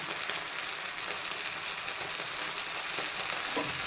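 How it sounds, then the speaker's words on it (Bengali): Eggplant frying in hot oil with turmeric and salt in a home kitchen, a steady soft hiss and sizzle that runs evenly throughout, faint and unbroken. "বেগুনটা আমি ভেজে নেবো ভেজে উঠে নেব"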